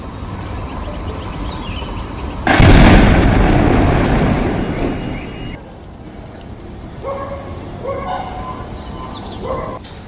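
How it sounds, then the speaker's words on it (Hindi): A sudden loud bomb blast in Delhi at about two and a half seconds, a heavy boom that rumbles and fades over a few seconds, with dogs barking and yelping around it. "आप इसमें धमाके की आवाज, इसकी इंटेंसिटी ऑडियो में साफ तौर से सुना जा सकता है।"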